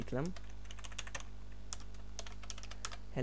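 Keys on a computer keyboard click in quick, uneven bursts, close and clear, and a brief voice opens and closes the stretch of typing.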